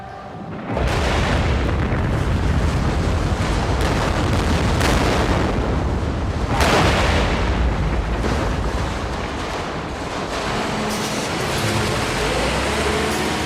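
A dynamite blast in a tunnel, set off by an electric discharge, erupts with a deep roar that rumbles on continuously, echoing as a long, thundering wash of noise.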